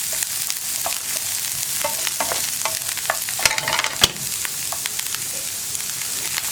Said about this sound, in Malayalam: ഇനി ഇത് രണ്ടും ഇളക്കി ചേർത്ത് നന്നായിട്ടൊന്ന് മിക്സ് ചെയ്തതിന് ശേഷം നമുക്കൊന്ന് അടച്ചു